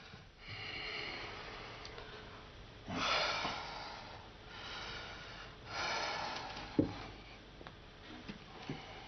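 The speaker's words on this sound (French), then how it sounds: "il est haletant" Heavy, rhythmic panting breaths, loud and close, coming in a few long surges with quieter pauses between them.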